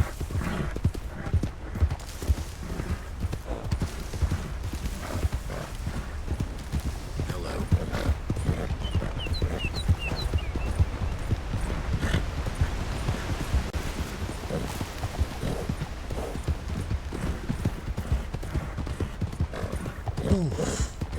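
A horse in the video game GoldRush RP trots with a continuous, even clip-clop of hooves throughout, gives a brief whinny around the middle, and a voice talks over it at times.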